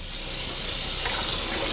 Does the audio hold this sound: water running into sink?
yes